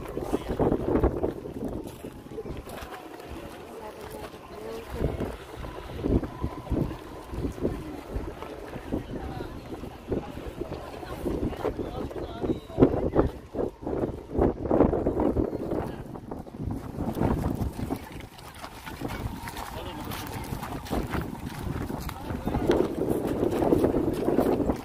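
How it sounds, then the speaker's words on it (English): Strong desert wind gusting at the Seven Magic Mountains art installation of stacked colourful stones near Las Vegas, a steady roaring buffet against the microphone that swells and dips throughout with brief bursts of speech. "Very windy here, guys."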